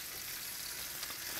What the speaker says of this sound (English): You can hear it sizzle right off the bat.